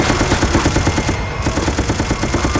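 Rapid automatic gunfire from the video game Operation Raccoon City, a dense, loud, continuous burst of rattling shots with no pauses.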